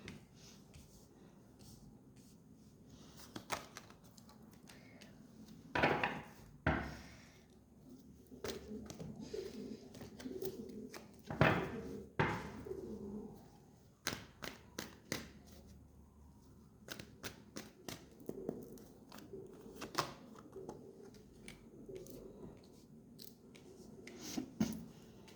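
Tarot cards being shuffled and drawn, with soft riffles, slaps and sliding flicks in uneven bursts, close and fairly quiet, with a few brief louder snaps.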